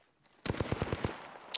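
Automatic gunfire in a first-person shooter game (Wraith), a quick burst of about six loud, close shots, followed by a short tail and a faint click.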